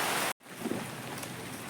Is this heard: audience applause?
no